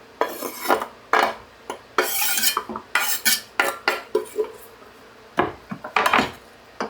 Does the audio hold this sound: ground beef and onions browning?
yes